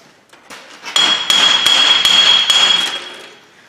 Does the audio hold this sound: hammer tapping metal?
yes